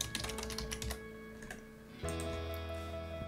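Quick clicking keystrokes on a computer keyboard as a computer name is typed, a short burst of taps, then a pause and a few more, against a steady electronic background tone.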